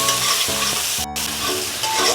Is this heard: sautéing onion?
yes